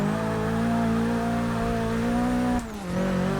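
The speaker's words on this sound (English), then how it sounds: "I love the way this thing sounds. Sounds like a proper little race car." A Nissan Silvia race car in Forza Motorsport 6 accelerates with a steady, rising engine tone that briefly drops at a gear change before climbing again, loud and close with no talk.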